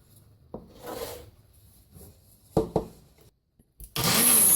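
Corn kernels pulsed in a kitchen blender: scattered knocks and scraping first, then a loud, close whirring burst of the motor that starts near the end and runs until the clip stops.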